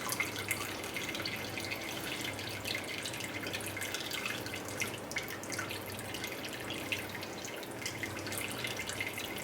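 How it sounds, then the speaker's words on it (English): Homemade bone stock from an Instant Pot dripping through a strainer after double straining, giving a steady, close trickle of liquid with soft drips, no talking. "I'm just letting that drip through just to get any more liquid out of it where possible"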